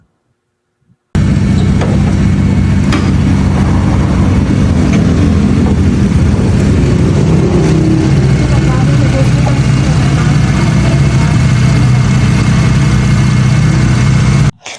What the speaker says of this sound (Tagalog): Sinabi ko nga sa kanya na pakinggan namin yung engine niya.